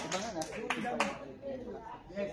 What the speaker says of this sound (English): So how about once again a big round of applause for them.